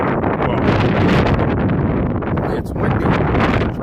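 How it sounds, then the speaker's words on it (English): Strong wind buffets the microphone in a loud, continuous roar inside a truck in Chicago, dipping briefly near the end before gusting again. "it's windy in the truck."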